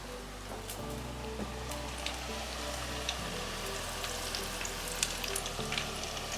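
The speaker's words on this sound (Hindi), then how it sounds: "अब इन्हें फ्राई करते हैं।" Noodle pakoras deep-frying in hot oil, a continuous dense crackling sizzle with fine popping bubbles, close and steady over a low hum.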